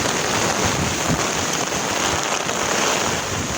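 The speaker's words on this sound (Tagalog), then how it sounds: "Grabe lakas na ulan mga guys." Heavy rain drums loudly and steadily on a tarpaulin roof over a house during a downpour. Strong wind blows over it and the broad wash continues without a break.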